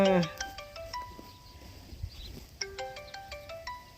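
Mobile phone ringtone for an incoming call out among rice fields, a bright electronic melody of short repeated tones in two bursts, with brief talk at the start.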